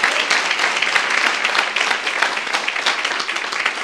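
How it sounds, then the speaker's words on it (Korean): A church youth congregation applauds hard during a sermon, dense continuous clapping that stays loud and even throughout without letting up. "박수 좀 세게 쳐봐요"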